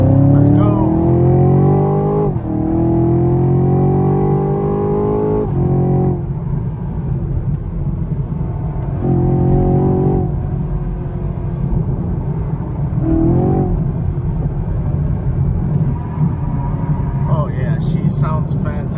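A 2023 Camaro SS V8 on a night drive revs hard through repeated rising acceleration pulls with gear shifts between them, a loud, close, sustained engine roar that settles into a steady cruising drone.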